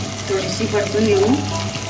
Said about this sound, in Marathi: चला त्यांना पण आपण तुपामध्ये फ्राय करून घेऊया मिरची पण टाकलेली आहे